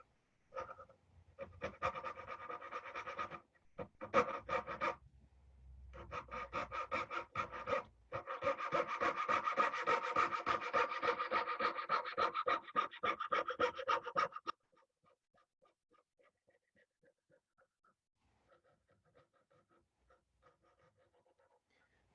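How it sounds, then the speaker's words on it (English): Coping saw cutting dovetail waste from wood by hand, a steady run of quick rasping strokes near and clear, pausing briefly between bursts before going quiet with faint scraping. "That gives us a guide to come in with the coping saw again."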